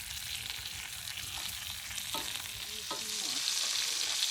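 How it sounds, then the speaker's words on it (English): Bacon sizzles and crackles steadily in a pan on an ATV camper stove, a constant hiss with occasional small pops, heard close and alone. "Oh, we're getting our bacon done."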